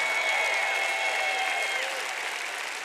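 Audience applause at a talk, a dense, steady wash of clapping that stays loud throughout and fades slightly toward the end.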